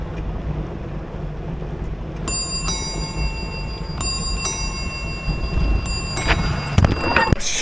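A bicycle bell rings several times on a riverside bike path, sharp metallic dings spaced out over steady wind and ride noise, growing busier toward the end.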